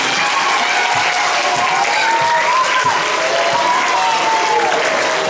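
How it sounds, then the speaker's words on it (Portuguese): Loud, dense applause from an audience cheering students and their teachers, sustained and even throughout, with faint voices in the mix. "Uma salva de palmas para vocês."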